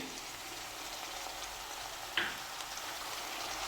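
A spoonful of water hits a hot pressure-cooker pan of cabbage and potatoes, giving a sudden sharp hiss that settles into a steady sizzle and bubbling, fairly close.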